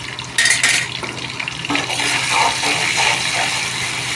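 A spice paste of ground dried red chillies and a little turmeric is stirred and sautéed in a pan for a vegetarian soybean dish, with scraping spoon strokes, metallic clinks and a soft sizzle underneath.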